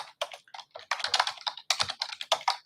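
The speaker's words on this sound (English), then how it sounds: "I'm just going to type my usual hi" Quick, close clatter of fingers typing on a computer keyboard, a dense run of crisp keystrokes in short bursts with tiny pauses between them.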